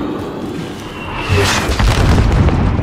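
A mortar shell explodes during combat in Call of Duty Modern Warfare, a deep booming blast that rolls into a sustained rumble amid loud battlefield noise.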